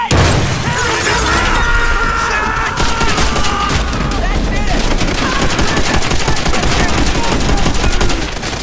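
Heavy gunfire and explosive blasts in a World War II Call of Duty: World at War battle near a smoking crashed plane, with rapid machine-gun bursts and shattering impacts sounding loud and close throughout, under shouted voices.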